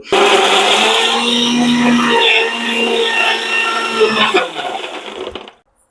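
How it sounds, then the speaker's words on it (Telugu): An electric mixer grinder whirs loudly as it grinds onions, a continuous high-pitched motor roar that holds steady for about five seconds, wavers slightly in tone, then cuts off abruptly. "దీన్ని మిక్సీ పట్టేసి కర్రీలా చేయడమే"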